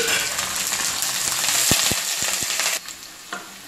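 Dried red chillies, chopped shallots and curry leaves sauté in hot oil for a Kerala tomato tamarind curry, giving a steady, fairly loud sizzle with a few soft utensil knocks, quieter toward the end.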